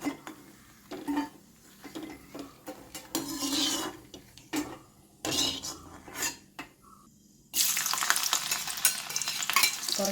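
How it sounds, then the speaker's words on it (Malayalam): Dried red chillies sizzle in oil in a pan while a spoon scrapes and clatters in short bursts, the frying growing louder near the end. "ആദ്യം കുറച്ച് വറ്റൽ മുളകൊന്ന് വറുത്തെടുക്കാം"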